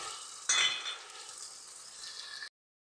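Ginger, chilli, garlic and tomato paste hit frying onions in a pan for a prawn curry, with a sudden loud sizzle that settles into a steady hiss before cutting off.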